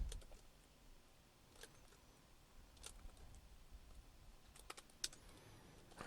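Code being typed on a computer keyboard, quiet scattered clicks with short bursts of keystrokes and a few sharper taps, close and faint, no voices.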